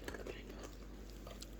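Close, quiet mouth sounds of someone chewing crispy beef sausage with mild curry, soft wet bites and crunches in a steady stream with faint breaths, no talking.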